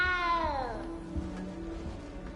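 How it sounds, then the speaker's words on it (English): A small cat in Hogwarts Legacy lets out a single drawn-out, falling meow, close and clear, followed by quiet game ambience. "You don't need to be frightened, little cat."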